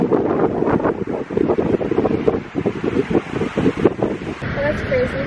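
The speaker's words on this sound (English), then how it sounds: "You probably can't hear anything I'm saying because it's so windy" Strong wind buffets the microphone on the hilltop summit of Beacon Rock, about 850 feet above sea level, a loud, continuous rumbling roar with gusty surges, and a voice talks faintly underneath.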